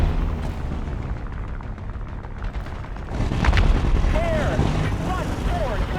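Tank cannon shot in War Thunder, a deep booming blast that rises out of steady engine rumble and lingers with a rolling tail, while a voice talks over the scene.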